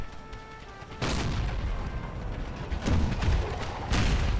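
Troops firing volleys in a real-time battle game, booming bursts of musket and cannon fire that start abruptly and repeat in heavy waves with no talking.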